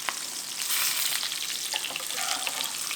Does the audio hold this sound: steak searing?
yes